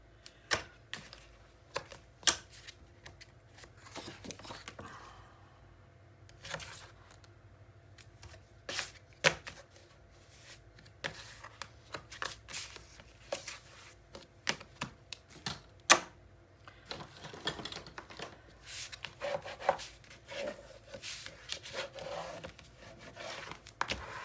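Adhesive tape is pulled, torn and pressed onto a 9 x 9 mini album, giving quiet, scattered rips, crinkles and taps at irregular intervals, close by with no talk.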